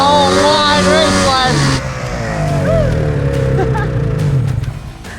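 A race snowmobile sled engine drones and revs loudly up close as it loops around a track, pitch rising and falling with throttle, with people talking over the engine noise throughout.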